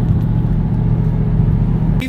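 A car engine running under throttle gives a steady, deep rumble that holds close and loud for a couple of seconds.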